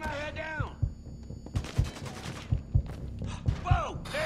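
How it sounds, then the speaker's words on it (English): Repeated gunshots in Mafia 3, a burst of sharp, evenly spaced thumping cracks in two clusters with brief gaps, close and punchy, mixed with game sounds and a voice groaning. "I'm about to shoot that bitch right in the face"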